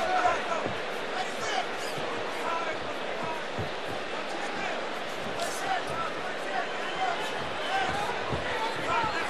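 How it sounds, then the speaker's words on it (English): A restless arena crowd murmurs and calls out during a Bellator MMA bout between Benson Henderson and Myles Jury, a steady babble with scattered shouts and thuds under commentary. "You hear the crowd getting a little restless"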